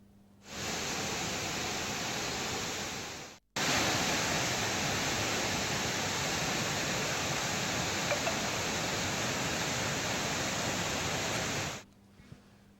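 Musi River floodwater rushes through nine dam gates raised two feet, a dense, constant roar of gushing water that is loud and steady, broken once by a brief cut, with no speech.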